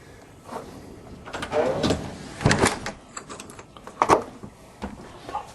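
The swinging back door of a 2009 Forest River Cabela's Bristlecomb Lodge log cabin park model, with its storm door and screen, opens and closes in a series of close rattling thumps and clacks.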